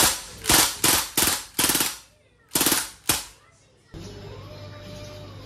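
A Crosman MPW Bushmaster airgun fires on full auto, several sharp bursts of rapid pops separated by brief pauses, then a steady mechanical hiss as the firing stops.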